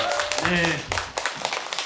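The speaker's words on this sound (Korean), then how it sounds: "우리 김성희께 다시 한번 큰 박수 부탁드리겠습니다" Audience applause at a brain education symposium hall rises at the tail end of a voice, then continues as scattered, moderately faint claps.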